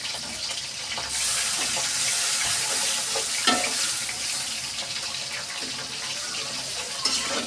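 Turmeric and chili powder masala fries in a pan after a little water goes in, giving a continuous broad, hissing sizzle with a few faint scrapes. No voices are heard.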